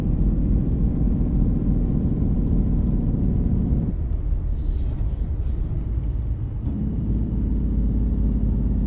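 A Freightliner truck engine in American Truck Simulator drones with a low, steady rumble while the revs drop on a downhill approach to Vegas, easing briefly mid-way before the heavy hum returns.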